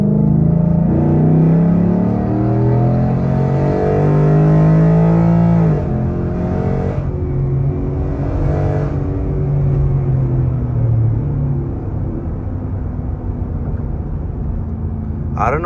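A 2023 Ford F-150 with the 5.0 V8 and a JLT intake pulls hard, its engine note climbing in pitch as it accelerates, then easing and building again. The roar is loud and close, heard from inside the cab.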